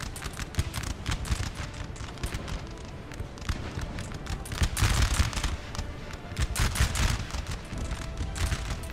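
Sustained musket volleys from a Napoleon Total War battle rattle continuously, with clustered cracks of massed line infantry rising and falling in intensity, the crowded popping layered over battlefield din.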